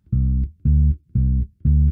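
Bass guitar playing a riff with the last notes cut short: four deep, clipped notes in an even rhythm, each stopping abruptly with a brief gap before the next, loud and close with no voices.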